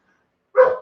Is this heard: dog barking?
yes